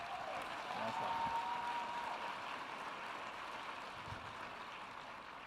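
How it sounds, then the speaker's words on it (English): Faint, distant applause from a conference audience at a public forum, a soft steady patter that fades slowly, with a brief tone and light background noise. "Let's give these wonderful North Carolina leader innovators a big round of applause"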